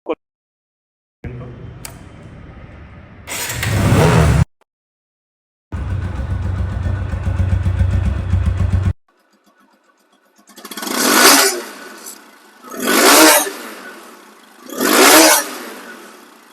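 A 2024 TVS Apache RTR 2V motorcycle engine revs up loudly in several bursts, first long sustained pulls and then three sharp throttle blips with pauses between them, close by and with no talking.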